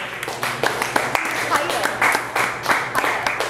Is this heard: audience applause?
yes